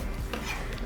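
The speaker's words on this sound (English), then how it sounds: "I've just got about a cup of spinach here that I'm chopping up" A knife chopping about a cup of fresh spinach on a board for a pasta dish, a few quick close cutting taps in a short burst.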